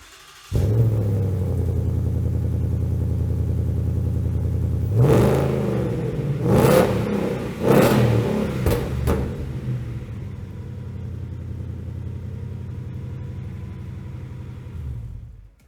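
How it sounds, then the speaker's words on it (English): A 2018 Ford Mustang GT with an aftermarket axle-back exhaust idles with a deep, loud rumble, blips the throttle in several sharp revs, then settles back to a steady idle before shutting off. "So our 2018 already has an aftermarket axle back, which can give you some before sound clips before we install the Borla."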